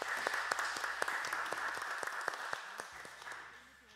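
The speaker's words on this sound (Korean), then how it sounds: "우리 하나님께 영광의 박수 올려드리시겠습니다." A church congregation claps together during a Sunday worship service, steady rhythmic applause at moderate distance with a faint sustained tone beneath it, gradually tapering off.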